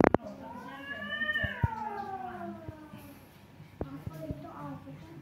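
A person's voice imitates a cat, drawing out a long rising-and-falling meow, followed by a few sharp knocks and quieter background sounds.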